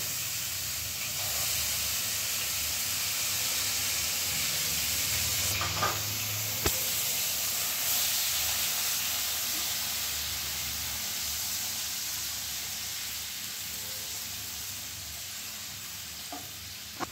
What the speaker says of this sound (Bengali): এবার আমি প্রথমে কড়াইয়ের মধ্যে দিয়ে দিচ্ছি পেঁয়াজ কুচিটা